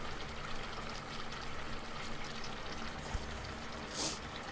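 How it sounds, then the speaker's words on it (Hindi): Half a cup of cream goes into a Mughlai chicken handi, a faint, quiet pour and soft liquid trickle over the low simmer of the pot. "आधी प्याली मैंने क्रीम शामिल कर दी।"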